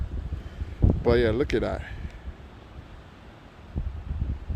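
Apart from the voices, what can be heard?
wind blowing outdoors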